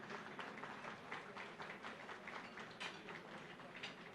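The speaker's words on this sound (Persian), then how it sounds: "خواهش میکنم با دستان زیبا و گرمتون این اساتید بزرگوار رو تشویق بفرمایید" An audience claps for calligraphy masters at a Ramadan unveiling ceremony of Quranic manuscript works, a steady soft patter of many hands heard from a distance, fairly faint and even throughout.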